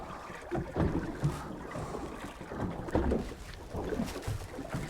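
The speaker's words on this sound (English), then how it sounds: "I'll go around the engine." A fishing boat's engine drones low and steady at sea beneath splashing water and wind gusts buffeting the microphone, fairly close throughout.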